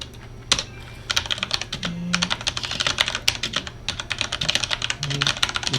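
Rapid keyboard typing fills the stretch during a typing section of Scribblenauts Unmasked, steady bursts of close, crisp key clicks with brief pauses, no voices over it.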